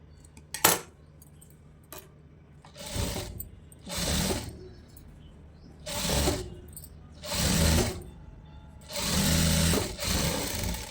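Sewing machine stitching the lining of a blouse, running in several bursts of a few seconds each with short pauses between, fairly close and clear, with a couple of small clicks from handling the cloth and no talking.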